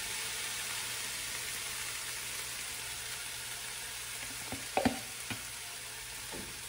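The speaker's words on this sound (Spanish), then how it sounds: "Ahora a fuego medio voy a dejar calentando la cazuela y ahora voy a agregar la verdura." Vegetables for shrimp fajitas sizzle steadily in a hot pan over medium heat, a constant soft frying hiss with a few brief clinks and stirring knocks midway.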